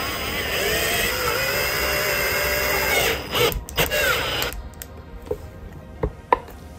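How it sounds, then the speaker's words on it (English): A power drill whines steadily for a few seconds drilling through a hinge on a slide-in center console in a 1996 Ford Econoline van, then stops, followed by scattered clicks and light handling noises. "Now the bottom ones are lined up so we can drill through those."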